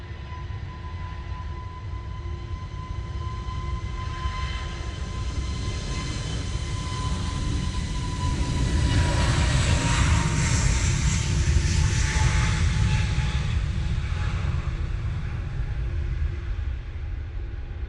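A jet aircraft departing Manchester Airport for Malaga in wet, windy weather gives a long, broad roar that swells to a peak midway and slowly fades, heard alone with no talk.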